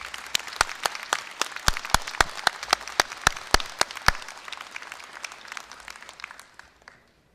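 Applause breaks out at a Korea University graduation ceremony for the outgoing university president, a run of distinct loud claps in a large hall, rhythmic and sharp at first, thinning out and fading to silence after about seven seconds.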